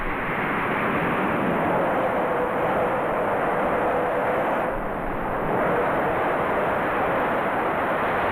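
An RAF Phantom jet fighter rolls down the runway for takeoff, its engines making a loud, steady broadband roar that holds for the whole stretch with no talk over it.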